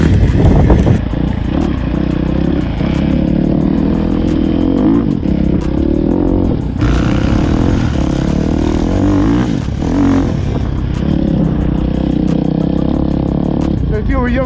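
A youth motocross bike rides a dirt track, its small engine buzzing and revving steadily and loudly close by for the whole stretch, with the pitch rising and falling as it moves around the course.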